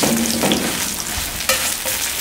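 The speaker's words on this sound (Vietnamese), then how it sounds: "Chiên bữa nay chiên ngon lắm" Seafood, meat and vegetables fry and are stirred in a pan, with a close, loud, steady sizzle broken by scraping stirring strokes.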